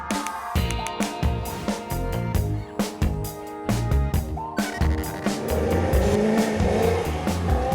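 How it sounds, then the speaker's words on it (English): A Vauxhall Monaro with a 6-litre Chevrolet V8 and rear-wheel drive, driven hard with a loud throaty engine rising and dropping through gear changes, then tyres squealing in a long sustained screech. "it combines a rear-wheel drive chassis with a stonking 6-litre Chevrolet V8 up front, producing a tyre-smoking"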